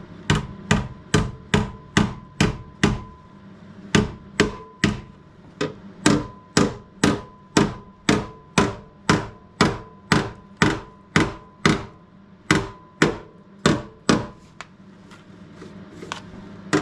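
Steady hammer strikes drive tacks into a Land Rover Discovery 3 sill, sharp metallic blows repeating roughly twice a second in close succession, with a few brief pauses between runs.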